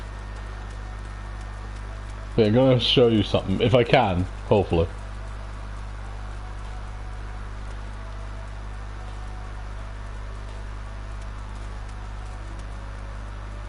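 Rain falls in the game world of Final Fantasy XIV, a faint continuous patter and hiss over a low hum, with a person talking briefly in the middle.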